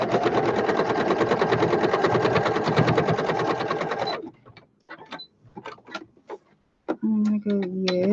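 Sewing machine running a zigzag stitch on fabric, a fast, steady mechanical whirring and ticking for about four seconds, then stops, followed by a few clicks and someone talking.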